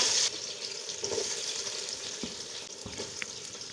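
Sliced onions fry in hot oil and ghee with spices, giving a soft, steady sizzling hiss with faint stirring scrapes throughout.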